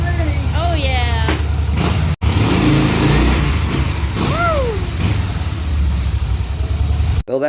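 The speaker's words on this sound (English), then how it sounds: "Sounds like a happy motorcycle to me." A 2013 Harley-Davidson Softail FLS motorcycle engine runs loudly and steadily throughout, with a voice briefly calling out over the rumble.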